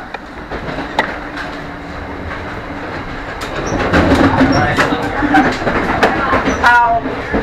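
A CSX freight train rolls along a busy stretch of track, its steady rumble and clatter building louder partway through, with a brief high wheel squeal near the end and faint voices in the background.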